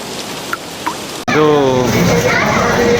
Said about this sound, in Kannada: ಈಗ ಈ ಮಳೆ ಇನ್ನು ಎಷ್ಟೊತ್ತು ಬೀಳುತ್ತೋ ಗೊತ್ತಿಲ್ಲ.